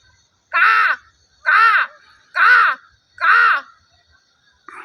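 A human voice imitates a crow's caw, four loud, harsh calls in an even rhythm, close and clear, with silence between them.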